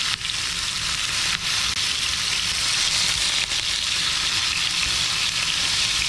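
Blue cheese smash burger patties fry in a small pan, giving a loud, steady, close sizzle that runs unbroken throughout with no talking.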